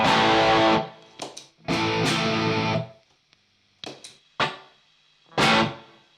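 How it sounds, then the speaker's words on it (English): Distorted electric guitar chords played through a multi-effects processor's reverb, strummed in loud bursts with short gaps, each ringing out with a spacious, echoing tail. "Okay, there's some sort of reverb on this."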